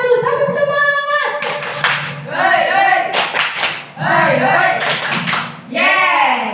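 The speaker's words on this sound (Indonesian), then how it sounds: "tepuk semangat dulu, tepuk semangat." A classroom group does a rhythmic spirit clap, sharp patterned hand claps in quick bursts, mixed with voices chanting and calling along throughout.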